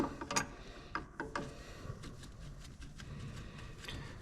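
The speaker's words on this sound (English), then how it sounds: "Use the flare to loosen it. That way you don't round off the hex head there." Flare nut wrench working a brake line hex fitting on a Brembo big brake caliper: a few quiet metallic clicks and ratcheting scrapes, close up but faint, with no talk.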